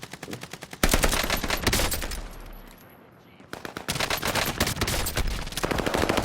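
Video game gunfire: loud, rapid automatic bursts that break off for a couple of seconds into a quieter lull, then resume in fast repeated volleys.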